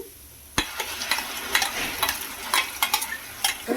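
Masala paste for a brinjal and potato curry sizzles and fries in a pan, with a sharp onset after a brief quiet, then steady crackling broken by repeated stirring scrapes, close and moderately loud with no talk.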